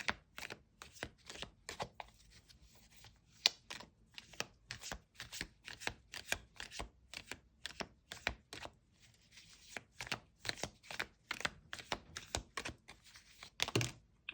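A tarot deck is shuffled and cards are drawn, producing a quick, steady run of crisp close card flicks and slaps, quiet overall, with a brief louder shuffle near the end and no talking.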